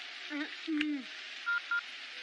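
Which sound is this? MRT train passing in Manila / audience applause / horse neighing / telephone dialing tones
telephone dialing tones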